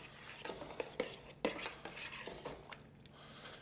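Sage and parsley being stirred into a pie filling in a pot: soft, close clinks and scrapes of a utensil against the pan, with faint quiet stretches between strokes.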